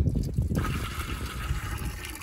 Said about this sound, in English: The reason why I'm filling up this 5-gallon bucket